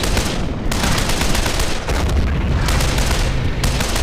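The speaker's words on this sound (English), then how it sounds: "A shot was fired there by a flat cannon." Cannon fire in a WWII tank battle game set around Küstrin with T-34 tanks: loud, continuous dense blasts and rumbling gunfire filling the whole stretch, with no voices.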